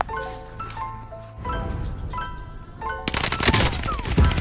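Gunfire in a Call of Duty video game, bursts of rapid automatic shots with a sharp louder volley near the end, continuous and fairly loud.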